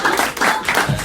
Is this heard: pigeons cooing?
no